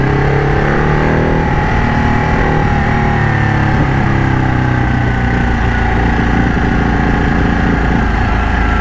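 A modified 2012 Ducati Panigale 1199 Tricolore motorcycle engine runs loud and close, a continuous throaty drone with shifting revs and no let-up, heard alone without voices.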